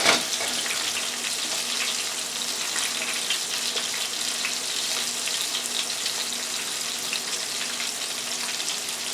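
Porgy fish fries in a shallow layer of oil in a frying pan, giving off a steady, dense sizzle and crackle that holds at an even level the whole time, with no talking.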